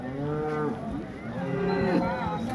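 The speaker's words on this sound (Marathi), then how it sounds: "इथे एक गाय आहे, दाखवतो." A cow at the Modnimb cattle market gives long, drawn-out moos, two mooing calls close by and fairly clear over a murmuring market background.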